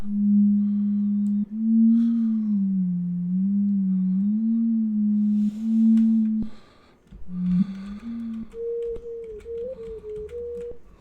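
A steady analog synthesizer sine tone wavering slightly in pitch, cutting out briefly, then returning and stepping up to a higher held note.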